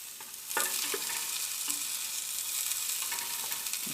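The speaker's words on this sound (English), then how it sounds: "Just mix up the onions." Onions sizzle steadily in a pan while a utensil stirs them, scraping and clacking against the metal in a few close strokes over the constant frying hiss.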